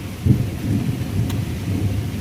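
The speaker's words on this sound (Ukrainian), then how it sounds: "Ну це такий дощ, знаєте, десь на 10 хвилин, ну може на 15." A short summer rain shower falls steadily outdoors, with a low rumbling undertone and soft patter, moderately loud and continuous with no voices.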